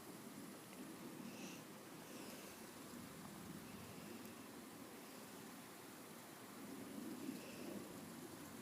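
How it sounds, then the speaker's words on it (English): Steady rain falls outdoors near a bee hive, a continuous even hiss with faint low rumbling swells throughout and no voices. "because this rain drove them in"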